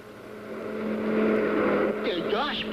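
Cartoon highway traffic, cars rushing past in a steady hum that swells toward the middle, with sharper whooshing passes near the end.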